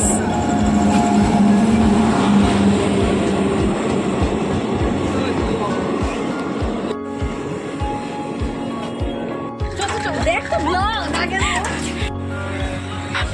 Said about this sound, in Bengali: তারপরে দেখতেই পাচ্ছ আমাদের ট্রেন চলে আসছে, কাঞ্চনজঙ্ঘা এক্সপ্রেস